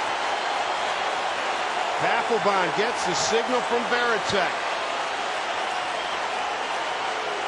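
Baseball crowd at Safeco Field during a Mariners game, a broad, steady roar filling the ballpark that swells briefly midway, with a commentator talking over it.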